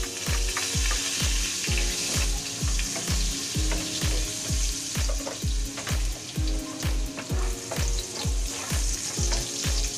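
Garlic frying in a pan with a little oil, a steady sizzle broken by rapid, regular clicking strokes roughly twice a second, close and fairly loud with no talking.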